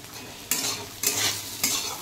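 Potatoes fry in a pan with a soft, steady sizzle. Three evenly spaced bursts of louder scraping and crackling mark each time they are stirred.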